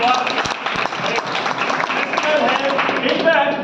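An audience at a success training seminar breaks into loud, dense applause that carries on steadily throughout, with a voice speaking over the clapping.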